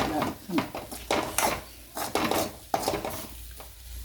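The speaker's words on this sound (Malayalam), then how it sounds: "നമ്മുടെ വെണ്ടയ്ക്ക അങ്ങനെ മുരിഞ്ഞുകൊണ്ടിരിക്കുകയാണ്" Okra being stir-fried in a pan for vendakka mezhukkupuratti, a spatula scraping and knocking against the pan in repeated bursts over a low sizzle, close by.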